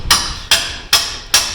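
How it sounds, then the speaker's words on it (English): Four sharp metallic strikes of a mini sledge hammer driving a pin into a Yamaha AR195 boat, evenly spaced about half a second apart, loud and close with short ringing decay. "So I've got this mini sledge that I have to carry around"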